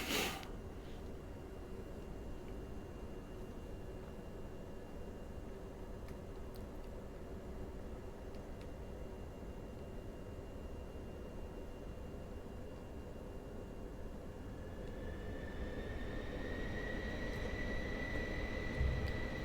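Pilatus PC-24 business jet engines taxiing in Microsoft Flight Simulator 2024, a steady broadband jet roar that swells louder near the end as a rising whine joins in, with no talking.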